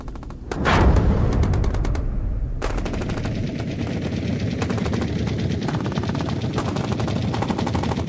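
Battle of Iwo Jima combat with Japanese positions firing on Marines: loud, rapid machine-gun bursts rattle continuously against a heavy rumble and a blast near the start, with no voices.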